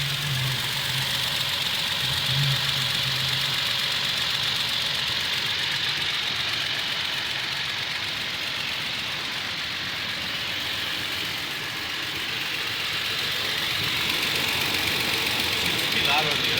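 A Toyota Tacoma engine runs steadily at idle, heard up close as a loud, continuous hum with a knocking texture that holds for the whole stretch.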